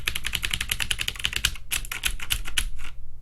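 Hard, fast typing on a Plugable compact TKL mechanical keyboard with a steel plate, a dense close-up clatter of sharp key strikes that slows into a few separate louder taps toward the end.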